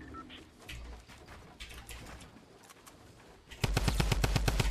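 Fortnite gunfire: scattered quieter shots over ambient game noise, then a loud, rapid burst of repeated automatic fire closing out the moment.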